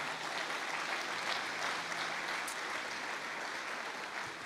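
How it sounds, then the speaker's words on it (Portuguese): Sustained applause from a church congregation, a dense, even patter of clapping that holds steady throughout with no talking. "Vamos aplaudir ao Senhor por essa palavra"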